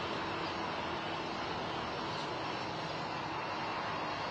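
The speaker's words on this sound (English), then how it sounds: "We should begin throttling the Merlin engines back up now." Roar of a SpaceX Falcon 9 rocket's nine Merlin engines during launch, climbing toward max Q on a crewed ISS mission, a steady dense broadband rumble that holds without letup.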